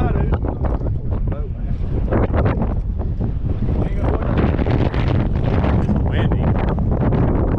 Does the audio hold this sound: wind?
yes